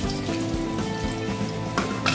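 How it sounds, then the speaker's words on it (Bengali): Dried red chillies and bay leaves tempering in hot oil left after frying fish for a katla fish kalia, giving a steady close sizzle and crackle with a brief flare of spattering near the end. "ওই তেলের মধ্যেই শুকনো লঙ্কা তেজপাতা ফোড়ন দিয়ে দিলাম"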